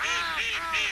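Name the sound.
young pelican calling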